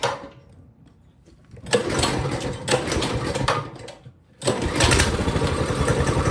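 A mini bike's small engine, just after an oil change, cranks in short bursts, stalls briefly, then catches and runs with a loud, rattling, close-up buzz.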